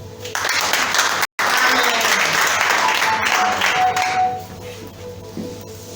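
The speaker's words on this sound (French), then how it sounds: "Acclamez-vous" An audience at a women's seminar breaks into loud, dense applause that holds steady for several seconds, then fades to scattered clapping, with a little crowd noise underneath.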